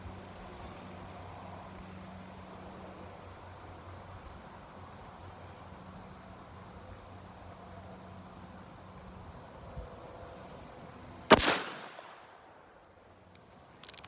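A stainless 10-inch Thompson Contender pistol chambered in 45-70 fires one loud, sharp shot late in the clip, after a long stretch of quiet outdoor ambience with insects.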